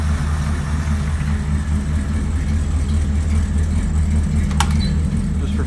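The engine of a 1985 Jeep Grand Wagoneer, running without EGR or air injection, idles nearby with a loud, even, low rumble that stays steady throughout, broken only by a brief high squeak near the end and no talking.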